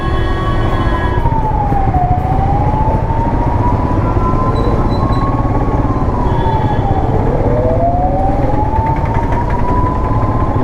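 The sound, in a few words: fire engine siren on emergency run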